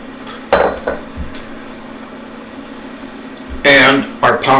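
Dry lentils, a pound of them, tumble into a soup pot of stock and water for spicy sausage lentil soup, heard as two short loud rattling bursts with clinks of the pot in between.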